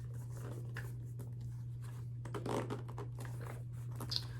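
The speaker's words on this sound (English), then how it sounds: "Let's see how it zips." Someone zips a black Bottega Veneta Mini Jodie leather bag with gold hardware, quiet scratchy stop-start zipper rasps and handling rustles over a low steady hum, without talk.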